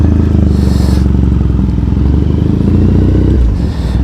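Motorcycle riding through Tokyo streets, its engine droning loud and close with a steady harmonic rumble and clattering, wind-buffeted texture throughout, no talking.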